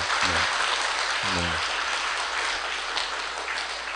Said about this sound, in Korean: 성모 마리아께 감사의 박수를 보냅시다